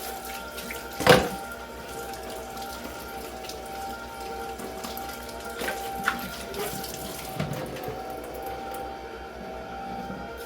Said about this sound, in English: so washing the ginger